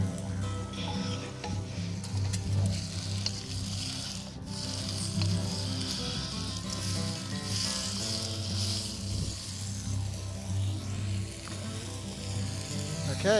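Cherabin freshwater prawns cook on campfire coals, giving a continuous low sizzle and faint crackle close by, with no voices over it.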